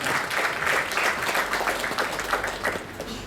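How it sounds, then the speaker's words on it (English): A crowd at a foundation stone laying ceremony for a college canteen claps to welcome the dignitaries, a steady, moderately loud burst of many hands that holds evenly without speech. "let's have a big round of applause to welcome the dignitaries"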